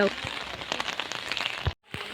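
Steady rain patters on a surface with scattered drips and crackles, briefly cutting to silence near the end before resuming.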